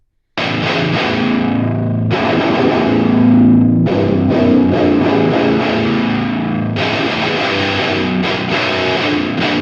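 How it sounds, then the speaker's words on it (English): Heavily distorted electric guitar played through effects and Dethadder amp simulation, thick sustained chords cut off abruptly and restarted several times, loud and close. "pay attention to the pick attack on the guitar"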